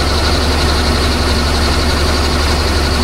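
A tractor engine running close by with a steady, loud low-pitched chugging drone that holds unchanged throughout.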